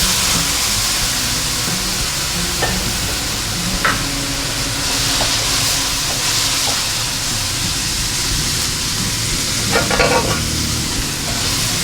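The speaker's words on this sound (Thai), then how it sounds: "ผมก็จะเติมน้ำเปล่าลงไปเล็กน้อยนะครับ" Water goes into a pan of Thai stir-fried squid, and a loud, steady hiss of sizzling and steam follows, with occasional scraping and clinking as the pan is stirred.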